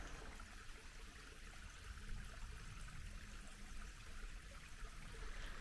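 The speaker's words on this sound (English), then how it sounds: "There's a little river over there that actually I'm gonna use right now. Little stream." Little stream flowing near a rainy spring campsite, a steady faint wash of running water trickling evenly, with no voices and no breaks.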